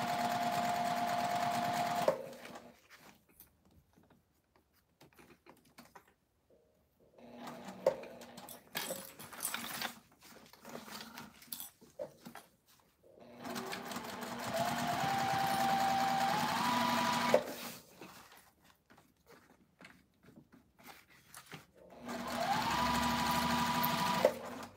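Home sewing machine stitching fabric in bursts, a steady whirring hum that starts and stops several times with quiet pauses between runs, close and clear.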